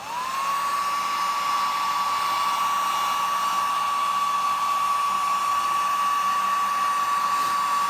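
A hair dryer blows hot air over wet paint on a tumbler, making a steady, close, continuous whirring hum that runs unbroken from start to finish with no talking.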